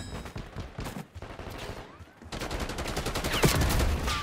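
Rapid bursts of gunfire in Black Ops 6, a fast run of shots growing louder and denser toward the end, with one sharp close shot near the finish.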